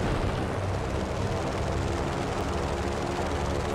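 An aircraft takes off in the video game Just Cause 3 with a loud, dense engine roar that holds steady throughout, and no one speaks over it.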